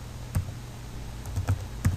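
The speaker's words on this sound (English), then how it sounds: "write down this command that I'm typing" Keys clatter on a computer keyboard as a command is typed, a few sparse, close clicks and taps with short pauses between them, alone without talk.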